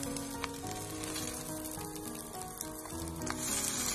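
Steady close sizzling of an egg and enoki mushroom pancake frying in oil in a pan, continuous and even with faint crackles throughout.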